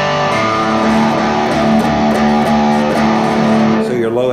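Guitar in drop D tuning, low string tuned down to D, for a riff; a dense, sustained, droning chord rings steadily and loudly with a low fundamental, fading out at the end.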